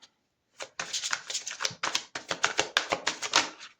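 Tarot cards riffled and dealt in a quick run of crisp, close paper flicks and slaps, steady after a short pause and heard alone without voices.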